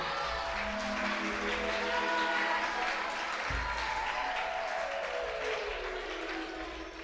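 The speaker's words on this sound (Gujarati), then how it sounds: "જોરદાર તાળીયા વગાડી દો." A seated audience gives sustained, even applause at a poets' gathering held at a Swaminarayan Gurukul school in Bhayavadar. The clapping is full and steady throughout, then slowly thins toward the end.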